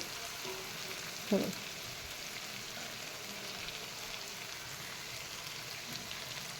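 Ground wet masala paste sizzling in a hot pan while being stirred, for a fresh cashew vegetable dish: a steady, moderately quiet frying crackle with one brief scrape of the spoon early on, and no voices.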